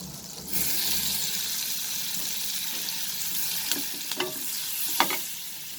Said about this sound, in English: You will saute this over low flame or else it will get burnt.